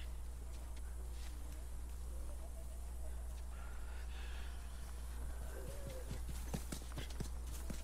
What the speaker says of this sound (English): Okay, Bill, enough with the stomping around.